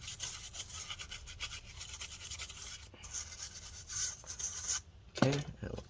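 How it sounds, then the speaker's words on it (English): A brush scrubs dust from inside an opened Gigabyte Aero 15 laptop, a steady close rasping scrub that runs for several seconds, pauses briefly, and ends with a short squeak. "there's all this dust stuck here underneath, so we're gonna brush that up and blow that away"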